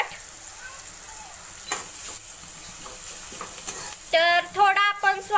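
Spices and coriander are stirred in a frying pan for a spicy cluster bean curry, giving a steady sizzle with occasional scrapes close by. Near the end, a few brief louder tonal sounds cut in.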